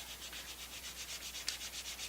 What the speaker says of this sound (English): I'm not going to bore you with all my sanding